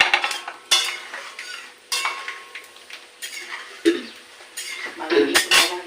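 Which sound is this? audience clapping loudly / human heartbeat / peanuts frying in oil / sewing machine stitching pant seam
peanuts frying in oil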